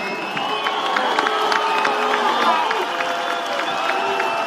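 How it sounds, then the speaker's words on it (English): Audience at a Canelo vs Crawford boxing press conference applauds and cheers, a steady wash of clapping with scattered whoops and crowd voices filling the room throughout. "give Turki Al-Sheikh a hand and a round of applause"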